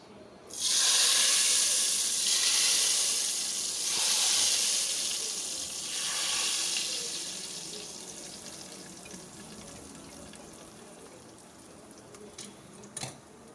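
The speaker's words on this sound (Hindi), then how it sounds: "ये देखिए हमने भगार दिया है।" Hot cumin tempering is poured into cooked dal and bursts into a loud, close sizzling hiss that swells in waves, then slowly fades to a faint crackle, with no talk.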